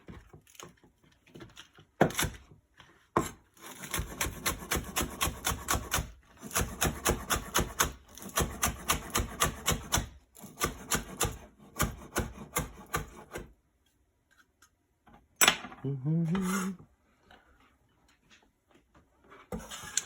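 A knife chops green onion on a cutting board in quick rhythmic bursts of close, crisp taps, pausing between runs, with a few scattered knocks near the end.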